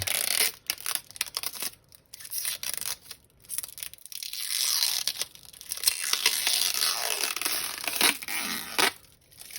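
A double-layered plastic protective bag around a guitar pickguard is torn and crumpled open by hand, giving bursts of close crinkling and ripping that come and go in uneven spurts with brief pauses.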